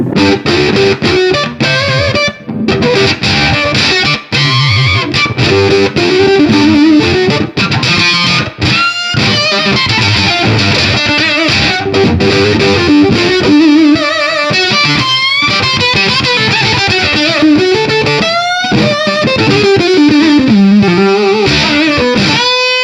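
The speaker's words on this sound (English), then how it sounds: "but this has this just killer fuzz tone." Electric guitar run through a Greer Amps Super Hornet octave fuzz pedal, heavy and buzzy, playing a continuous loud riff with bends and sustained notes, no talking.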